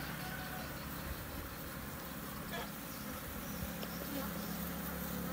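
A swarm of bees being caught from an electrical cabinet in Phu Yen produces a dense, continuous buzzing hum, fairly faint and steady throughout, with no clear voices.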